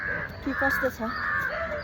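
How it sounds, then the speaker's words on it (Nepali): Birds, crows among them, call in harsh repeated caws outdoors in early morning near Besant Nagar beach, fairly close and recurring over a short stretch, partly under a man's brief speech. "चरा पनि कराइरहेको छ। चरा चुरुङ्गीहरू एकदम कराइरहेको छ।"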